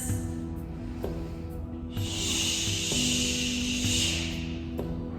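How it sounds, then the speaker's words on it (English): A long, steady breath is let out slowly, a soft airy hiss that swells midway and fades, over a low constant hum. "you can either take a nice slow exhale"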